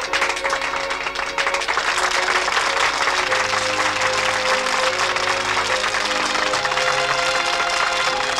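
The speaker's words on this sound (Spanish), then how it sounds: "La salida del campo de Ross es saludada por un cariñoso y conmovedor aplauso de todo el estadio" A cartoon football stadium crowd gives a sustained, warm ovation as a player leaves the pitch, dense applause rolling steadily throughout, with a soft musical tone underneath.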